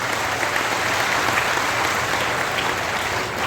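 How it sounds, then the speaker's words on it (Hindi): Dense, steady audience applause fills a Shrimad Bhagavat Katha event held before the Chief Minister of Chhattisgarh. The clapping is continuous and evenly loud from start to finish, with no pauses. "एक बार फिर तालियों से।"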